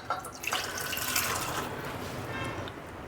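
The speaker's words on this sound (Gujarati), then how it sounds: "અને દાળ સાથે 1 કપ પાણી ઉમેરી દેશું" Water pours steadily into a pressure cooker holding soaked dal, a close, continuous splashing gurgle with small drips, running unbroken for a few seconds.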